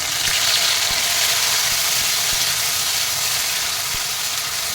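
Steady loud sizzling of tomatoes dropped into hot oil with garlic in a pan for kaddu ki sabzi, a continuous frying hiss with a few soft clicks and no talk.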